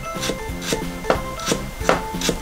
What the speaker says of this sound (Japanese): ニンニクと生姜は みじん切りしていきます